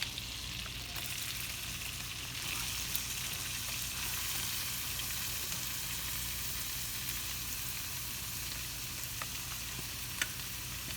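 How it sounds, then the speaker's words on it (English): Passata poured into a hot, wide shallow pan, giving a soft, steady sizzle with faint stirring touches and a couple of light clicks, fairly quiet and continuous with no voices. "Now I'm going to add my pastata."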